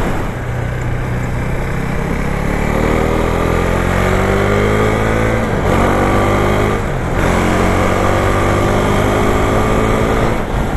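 A Husqvarna Vitpilen 401 single-cylinder motorcycle engine drones loudly and steadily while riding, its pitch climbing through gears with brief dips at shifts, under heavy wind rush.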